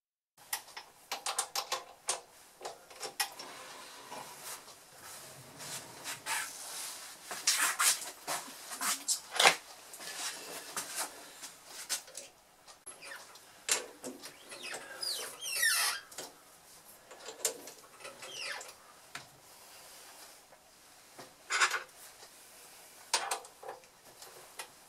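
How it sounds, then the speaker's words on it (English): Tap cutting a thread into a hollow brass ball for a Wimshurst machine, heard as a long run of small irregular metallic clicks, ticks and scrapes, close and moderately quiet with no talk. "I shall now tap the ball."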